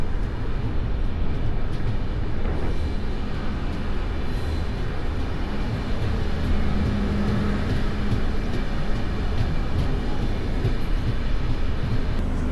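Train 19256 on the Mahuva to Botad line rumbles steadily from inside a moving carriage, a loud continuous roar of wheels and wind with no pauses.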